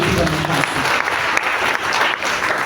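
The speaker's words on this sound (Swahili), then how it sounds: "Tumpigie makofi katika nafasi." A crowd at a Kenyan forum gathering claps steadily in a dense, continuous burst of applause lasting a few seconds, close and loud.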